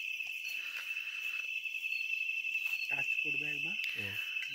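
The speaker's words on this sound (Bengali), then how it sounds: "চারিদিকে শুধু ঝিঝি পোকার ডাক ছাড়া আর কিছুই শুনতে পাচ্ছি না" Crickets at a night campsite on the Tashi Gaon trek in North Bengal keep up a steady high-pitched drone from start to finish. Voices talk nearby over the constant chirring.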